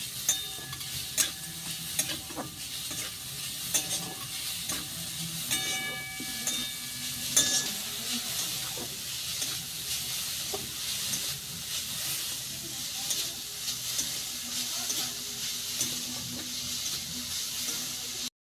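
Grated coconut frying in a pan while a spatula scrapes and stirs it, giving a steady close sizzle with repeated scraping strokes and a few metallic clinks, filling for about eighteen seconds.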